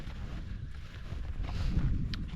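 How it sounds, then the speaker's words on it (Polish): Gusty wind rumbling across the microphone outdoors by the water at Blokkvatnet lake, Hinnøya, Norway, a low continuous roar that swells slightly toward the end, with faint knocks. "przy samej wodzie to zawsze zawiewa wiatr"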